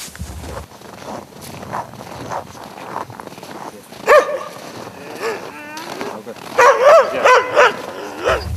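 Hunting dogs in a village bark in several sharp bursts, some close and loud, with yips between them, while people talk nearby.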